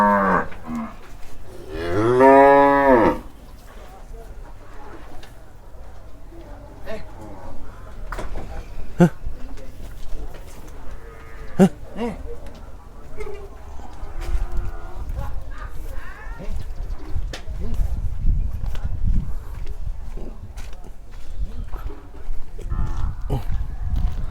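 Cattle at a Thai livestock market, one clear drawn-out moo near the start followed by crowd chatter, distant livestock noise and a dog bark or two under ongoing talk.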